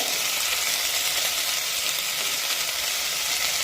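Potato curry ingredients sautéing and being stirred in a pan, giving a dense, steady hissing sizzle that stays even and close throughout without distinct strokes.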